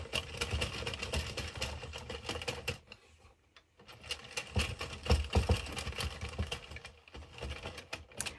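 A knitting machine clatters through rows with rapid, rattling mechanical strokes, pausing briefly midway before the carriage runs again, fairly close and with no talking.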